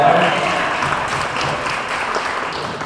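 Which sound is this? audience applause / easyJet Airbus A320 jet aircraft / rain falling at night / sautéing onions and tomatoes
audience applause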